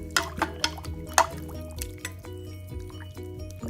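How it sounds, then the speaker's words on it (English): A spoon stirs chicken noodle soup broth in a pot, producing soft liquid swishes with light clinks against the pot in an irregular rhythm, close and quiet. "all you have to do is stir it up"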